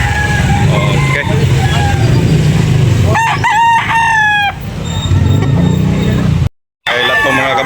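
A rooster crows at a chicken market in Carbon, Cebu City. Several loud, close crowing calls rise over background clucking and a steady crowd murmur, and a voice talks in the background.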